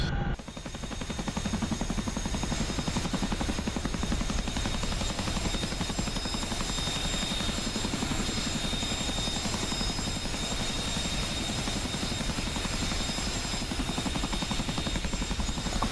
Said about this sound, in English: Famous sound of the Chinook rotors beating together.